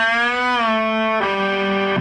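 A single distorted electric guitar note on the open 3rd string, bent up and back down in slow motion, then a second sustained note ringing loudly with fuzzy overdrive.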